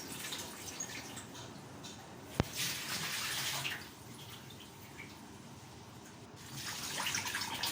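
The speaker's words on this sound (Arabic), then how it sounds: "سيبها تاني تحت المية تغسل تاني، تدعك تاني بالمية النضيفة اهي" Tap water runs into a sink while raw chicken pieces are rinsed and rubbed, a steady close splashing flow that swells and eases, with one sharp knock partway through.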